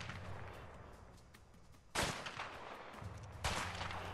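Gunfire in the video game A Way Out: two sharp, loud shots a second and a half apart ring out over a low background rumble.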